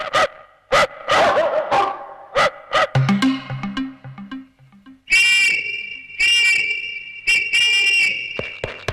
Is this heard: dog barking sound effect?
yes